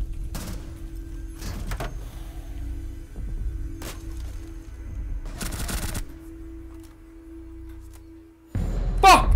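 Gunfire in Rainbow Six Siege comes as several sharp, loud bursts spaced through a tense stretch with a low hum underneath, and a heavier burst lands at the end.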